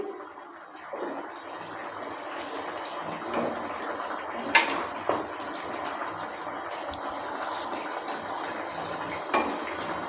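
Pea kofta curry being stirred in a pan after garam masala goes in, with steady scraping and occasional clinks of a spoon against the pan over a soft bubbling simmer, close and moderately loud.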